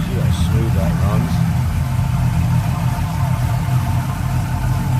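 A 1998 Pontiac Firebird Trans Am with an SLP intake and dyno tune idles with a steady, smooth low rumble, heard up close while someone talks over it.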